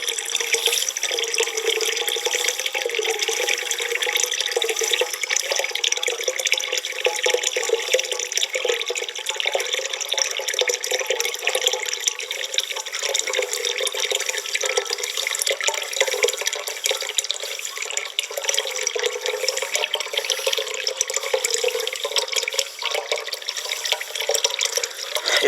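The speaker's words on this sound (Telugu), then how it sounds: "ఇదిగో మిషన్ భగీరథ నీళ్లు, ఇది మిషన్ భగీరథ నీళ్లు ఎంత మంచిగా వస్తున్నాయి చూడరు ఒకసారి" Mission Bhagiratha supply water runs steadily from a tap into a pot in Telangana, a continuous close splashing gush that fills the whole stretch without a break.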